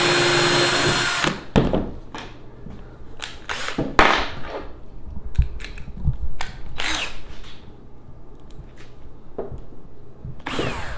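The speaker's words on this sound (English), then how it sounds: "Pre-drill this hole here." Several short bursts of a power drill pre-drilling holes in wood for a dog ramp, separated by brief pauses, close and fairly loud.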